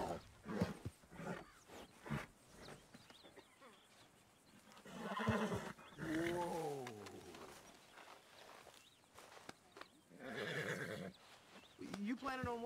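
In the Red Dead Redemption 2 video game, a horse whinnies loudly in a rising and falling call, with a second neigh later, both mixed among a player's frequent talking and game sounds.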